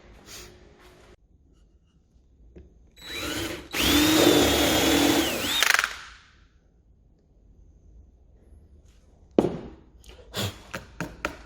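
A power drill bores two dowel holes in wood, one long loud whirring run up close, followed by quieter handling and several sharp knocks as the piece is worked.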